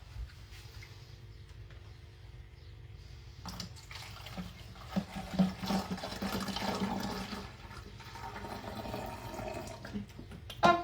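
Water drains from a kitchen sink into a bottle, giving a quiet, gurgling pour that swells midway and then trickles on with faint splashes, with no talking.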